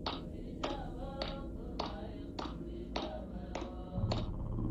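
Hands clapping by women seated on a floor singing a traditional Kohistani song in Pakistan's Kohistan region: eight crisp, evenly spaced claps at a steady beat, close and distinct, with no singing clearly standing out.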